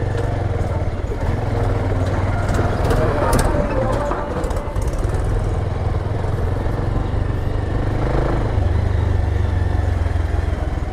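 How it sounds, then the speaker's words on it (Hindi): A tractor drives past in a village on its way to the field, a loud continuous engine rumble and roar holding for the full length, with traffic-like noise and faint voices around it. "और इस ट्रैक्टर को देखिए, अभी जा रहा है खेत में हाल जीतने के लिए।"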